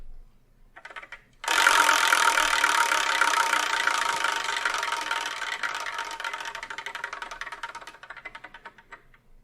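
A prize wheel spun to pick a manga for review ticks rapidly and loudly after a short quiet start, its clicking slowing gradually over about eight seconds as the wheel winds down.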